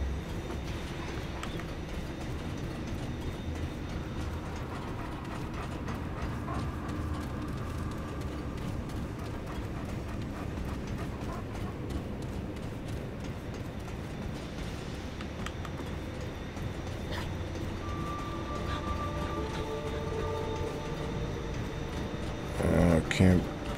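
In the video game Remnant 2, a train ride gives a steady rumbling, clattering rail noise that fills the scene at moderate level throughout, with a louder burst of rattling near the end.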